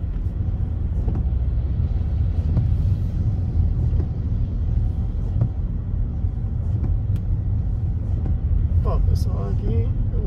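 A car overtaking a slow-moving truck on the BR-423 highway in rainy weather, a steady low road and engine rumble from inside the cabin, loud and continuous, with someone talking over it.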